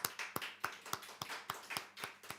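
A church congregation clapping at a Sunday service, sharp separate claps in a fairly regular rhythm, about nine in quick succession, quiet and somewhat distant.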